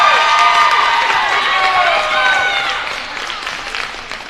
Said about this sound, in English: Let's get another round of applause for Tava Miller.